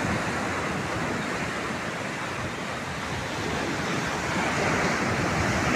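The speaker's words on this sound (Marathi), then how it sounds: "आणि ह्या लाटा पहा" Rough sea waves pound the Konkan coast near Dapoli, a continuous loud roar of surf with wind noise on the microphone, steady throughout and without any talk.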